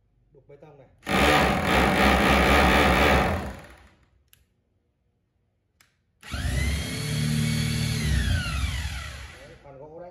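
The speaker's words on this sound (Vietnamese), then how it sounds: "Đấy, khoan gỗ đấy." A three-function concrete hammer drill in wood-drilling mode runs in two loud bursts, the second with its motor pitch sweeping up and down as the speed changes, separated by a quiet pause.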